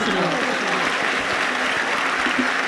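A dense, continuous wave of applause from an audience at a Hindi-Urdu poetry event, loud and steady throughout with no pauses.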